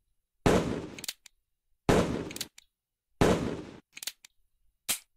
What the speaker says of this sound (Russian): Взведение, выстрел. Взведение, выстрел.